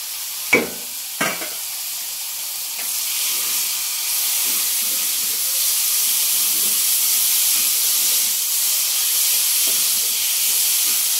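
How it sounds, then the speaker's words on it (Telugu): Boiled banana flower dropping into a pan of frying ginger, green chili and coconut paste, two soft thuds at the start followed by a steady, fairly loud hiss and sizzle that carries on alone. "దీంట్లోకి మనం ఉడకబెట్టుకున్న కొబ్బరి పువ్వుని ఈ విధంగా యాడ్ చేసుకుందాం"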